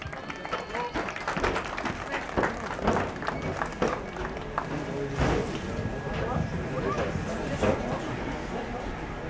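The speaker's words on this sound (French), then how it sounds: "vous pouvez les applaudir" Scattered outdoor clapping at a Volkswagen Beetle elegance parade in Rennes, uneven and moderate, mixed with crowd murmur and people talking nearby.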